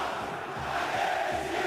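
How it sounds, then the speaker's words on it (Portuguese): Corinthians football supporters chanting in the stadium during a 2012 Libertadores match against Vasco, a steady distant roar of massed voices with a faint rhythmic pulse. "Enquanto a torcida do Corinthians vai desfilando o seu repertório de músicas"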